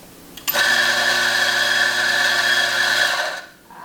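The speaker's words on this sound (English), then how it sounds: "I'll grind some of my Mazer." A Mazzer coffee grinder grinds coffee beans with a loud, steady motorized whir lasting about three seconds before it cuts off, heard close and alone.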